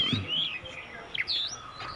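A Javanese kacer, the local magpie robin, sings alone and close by: clear whistled phrases with rising and falling sweeps and a few quick chirps over a quiet background.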